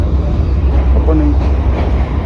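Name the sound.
train arriving at a station in Colombo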